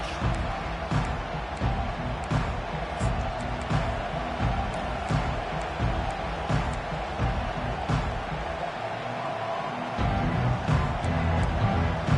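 Broad, steady roar of a football stadium crowd at a Clemson home game, a dense continuous wash of many voices that stays loud throughout with occasional swells, and no distinct commentary rising above it.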